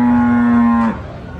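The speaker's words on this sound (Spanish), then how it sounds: "Miren, acá están las vacas." Cattle at a livestock exposition. One loud, close moo holds a steady tone for almost a second and then breaks off, leaving a faint background murmur.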